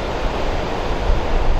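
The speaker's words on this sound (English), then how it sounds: "it cascades down over the 5-foot waterfalls, and just the tumbling adds oxygen" River water cascades loudly over 5-foot waterfalls at an aeration station, a dense continuous roar of tumbling water heard close and alone.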